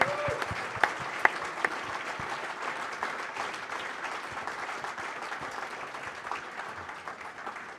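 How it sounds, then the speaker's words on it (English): A crowd claps steadily at a sports awards night in Essex, a dense continuous patter with a couple of sharper claps early on, moderately loud and sustained throughout, with faint voices mixed in. "Keep clapping, guys"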